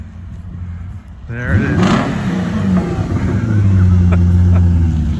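A BMW E34 540i with a freshly repaired engine comes up a driveway, its V8 note swelling from quiet to a loud, close rev and steady rumble, with someone speaking briefly over it.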